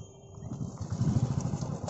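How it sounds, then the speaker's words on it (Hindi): A cold motorcycle is kick-started at a roadside viewpoint on the way from Siliguri toward Mirik. A low, chugging engine rumble builds and then keeps running unevenly, with no talk. "बाइक ठंडा हो गया तो स्टार्ट नहीं ले रहा है, तो बाइक का स्टार्ट किक लगा के स्टार्ट लगा रहा है इधर"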